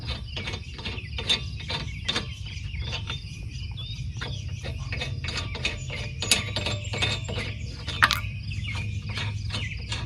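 A ratchet fitted with a 22 mm socket clicks steadily while loosening lug nuts on a 2014 GMC Acadia, rapid metallic pawl ticks in quick bursts, close up over a low steady background hum.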